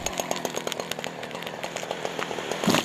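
A chainsaw cutting wood at a lumberjack competition, its engine revving in rapid, regular pulses close by and loud, with a rising burst at the end as the cut finishes.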